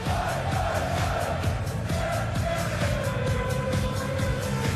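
A darts arena crowd at the 2010 PDC World Championship sings and chants along to a tune, a dense, steady roar of many voices with a rhythmic pulse, loud and continuous throughout.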